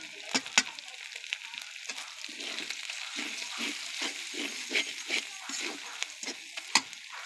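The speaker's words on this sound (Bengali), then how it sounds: "একটু তেলের সাথে কষায় নেব।" Turmeric, chili powder and salt sizzle in hot oil over garlic, ginger and cumin, with a steady frying hiss broken by repeated scraping stirs, close and moderately loud.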